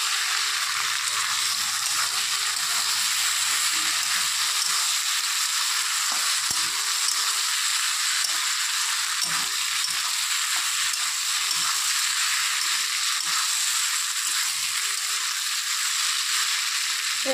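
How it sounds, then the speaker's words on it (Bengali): Potato and small fish curry sizzles loudly and steadily in a pan while it is stirred, with soft scraping and low knocks from the spoon under the constant frying hiss. "এখন একটু নেড়ে চেড়ে দেবো।"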